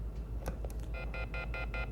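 Tones from a telephone line with a phone left off the hook, heard during a call-in trivia radio show: a steady series of evenly spaced electronic beeps, loud and alone over a low hum.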